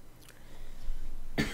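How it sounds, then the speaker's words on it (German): A single sharp cough bursts out close and loud after a quiet stretch of faint background ambience. "Warum habe ich denn so einen Husten?"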